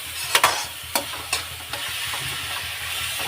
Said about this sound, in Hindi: अभी अच्छे से भून जाएंगे, टमाटर के साथ भून लेंगे मसाले।